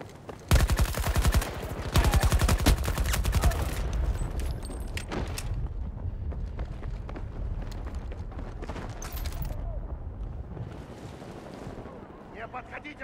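Rapid automatic gunfire in the Battlefield video game, loud close bursts in the first few seconds that give way to more scattered shots and rumbling explosions fading over the rest of the stretch.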